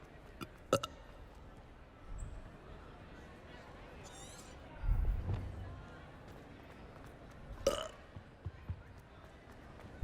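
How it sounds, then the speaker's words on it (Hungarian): A Hogwarts Legacy character lets out a short burp, a low rumbling belch midway through, between sparse game sound effects and quiet background ambience. "Büfög a fülembe"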